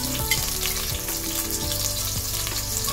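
Onions sauté in a pan for an Ilocano-style chicken soup with patola and sotanghon, giving a steady, close, loud sizzle with bubbling crackle and a few stirring scrapes throughout, no voices.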